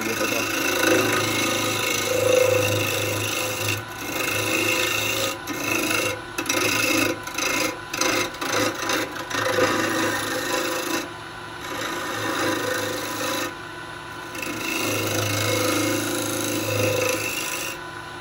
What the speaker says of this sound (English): I won't even bother doing the bottom with a bowl gouge. I'll go straight over to spindle gouge.